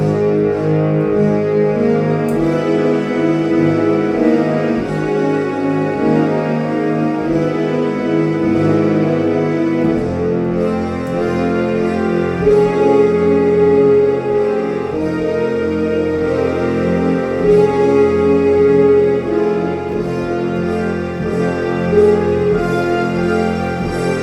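A dramatic, tense rendition of the Avengers Endgame score is played on instruments, sustained chords and layered tones moving through shifting harmonies, full and close, with a change of chord about midway and no speech.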